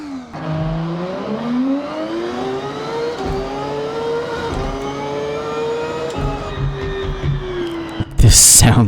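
A race car engine in the video game Forza Horizon 6 revs hard and climbs through rising pitch sweeps, loud and close, with a sharp burst of noise near the end.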